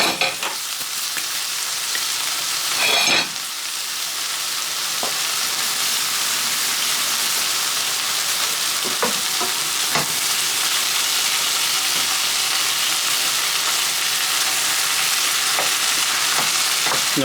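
Chicken stir fry sizzling steadily in a hot pan, a continuous loud frying hiss with occasional stirring clatters and scrapes, no talking.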